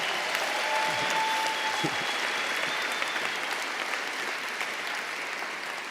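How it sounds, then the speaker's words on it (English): An audience at a food awards event in San Francisco claps steadily, a dense wash of applause that holds for several seconds and eases slightly near the end. "Let's give her another round of applause."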